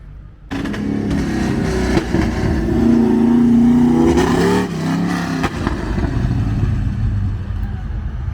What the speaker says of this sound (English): the Tahoe is really spinning on them